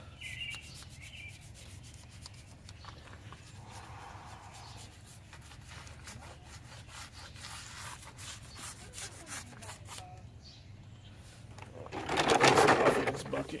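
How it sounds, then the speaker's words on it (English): Soft, rapid back-and-forth scrubbing of toothbrush bristles against hard spots while cleaning a car, faint and continuous, with a louder burst of rubbing near the end. "I'm going to scrub it a little bit with a toothbrush, some of the hardest spots"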